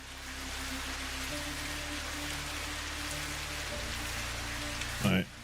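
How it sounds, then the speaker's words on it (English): Rain falls steadily in the factory-building game Satisfactory, a constant close wash with low droning machinery underneath and a brief louder knock near the end. "and now we've just got rain."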